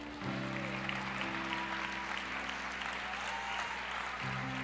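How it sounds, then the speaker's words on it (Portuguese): Church congregation clapping together in sustained, steady applause, a dense wash of hand claps filling the room, with a low sustained musical tone underneath. "Aleluia, aplauda ao Senhor."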